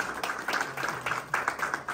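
Scattered clapping from a crowd at a PTI workers' convention in Manchester, a brief burst of uneven hand claps in loose pulses, moderately loud and fairly close.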